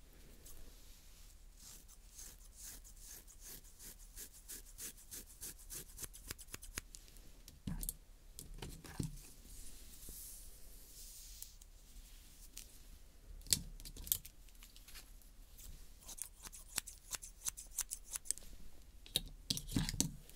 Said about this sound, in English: I got three professional scissors